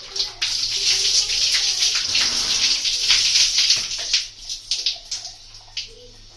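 Water poured over henna-coated hair at home, a steady close splashing and gushing rush that runs continuously for several seconds, thinning into scattered drips and trickles toward the end.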